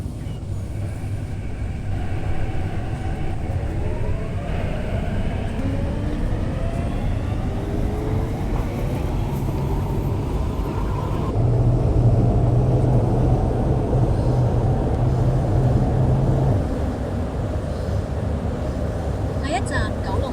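An MTR C-Train on the Modified Initial System between Choi Hung and Central rumbles steadily throughout, with loud continuous wheel and motor noise, rising and falling whine, and a louder section partway through.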